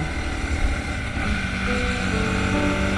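Honda CB250R motorcycle engine straining under load while riding, a steady droning hum mixed with rushing wind noise, continuous throughout with a rising tone near the end.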